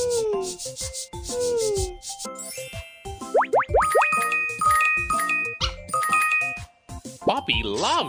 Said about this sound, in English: Now let's wipe him up.